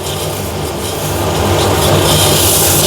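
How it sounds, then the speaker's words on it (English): Steady, coarse rasping of sandpaper rubbed by hand continuously against a hornbeam wood box, close up and fairly loud, with no pauses. "So now I'm sanding the bottom"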